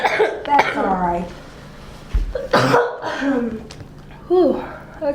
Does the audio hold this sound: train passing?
no